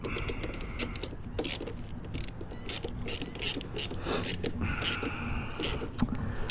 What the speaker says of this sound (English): let's grab the 1/2 inch and let's tighten that up